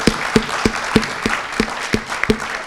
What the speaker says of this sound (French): Je vous aime tellement que je vais vous demander de vous applaudir.